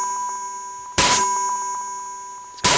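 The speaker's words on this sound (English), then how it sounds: "I like how it starts off a noise and then turns into a bell." A synth preset on an Elektron Model:Cycles groove box: two loud bursts of noise, each flaring and then settling into a sustained bell-like ringing tone with a steady pitch, sounding alone with no voices.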